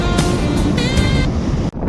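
Continuous broadband roar of surf and wind washing across the whole moment, loud and steady, with no voices.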